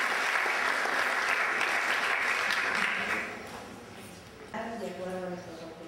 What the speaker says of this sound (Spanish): nuevamente les pido que recibamos un fuerte aplauso a nuestra directora